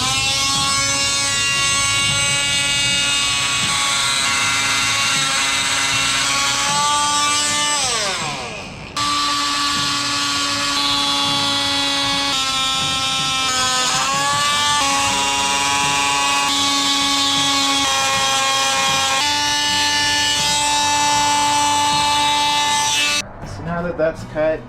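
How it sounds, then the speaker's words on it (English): Oscillating multi-tool cutting kitchen tile during a cabinet remodel, a loud buzzing whine held for long stretches with pitch shifts as the blade bites, near and continuous, stopping briefly once midway. "Take a different approach and use the oscillating tool"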